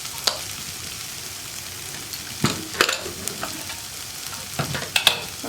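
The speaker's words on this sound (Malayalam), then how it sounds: "ഗ്രീൻ പീസ് ചേർത്ത് നന്നായിട്ട് ഇളക്കി മിക്സ് ചെയ്യുക" Cooked green peas being stirred into a frying green peas curry: a steady soft sizzle broken by a few sharp utensil scrapes and stirs against the pan.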